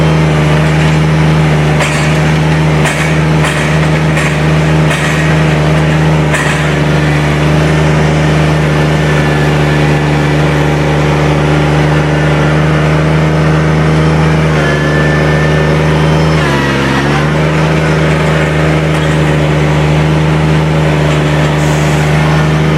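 A 20-horsepower diesel tractor engine runs steadily and close by, with a deep constant hum and rattle throughout and a brief dip in tone midway. Nobody speaks.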